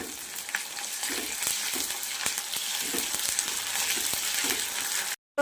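Ginger-garlic paste fries with onion and dried red chilli in a pan, giving a continuous close sizzle broken by light scraping stirs, with no talking.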